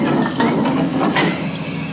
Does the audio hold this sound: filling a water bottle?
yes